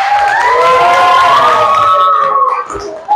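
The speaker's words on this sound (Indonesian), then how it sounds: "Oke, tepuk tangan untuk kita semuanya." A school class breaks into cheering and shouting, children's voices rising together in a loud, close burst with some clapping mixed in before it quickly dies away.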